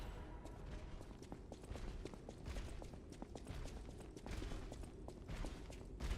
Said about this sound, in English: I hear him stomping around.